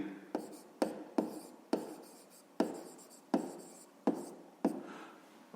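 Pencil or pen writing on paper while working a fifth-grade math exercise: a run of close, crisp strokes and taps, about nine distinct hits with short scratchy tails at an uneven pace, with no talking.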